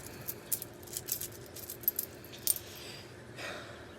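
Loose screws rattle and clink in a container in a few quiet bursts, with small metallic taps spread over a few seconds and no talking.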